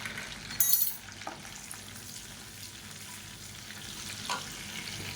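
Green chillies and cumin seeds fry in hot oil for an Indian sabzi side dish, giving a soft continuous sizzle with a couple of utensil clinks and stirring sounds near the start.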